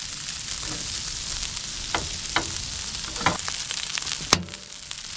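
Fried rice sizzling in butter on a Blackstone flat-top griddle, a steady broadband crackle with several sharp spatula scrapes and clanks and one loud metallic hit near the end, close and alone.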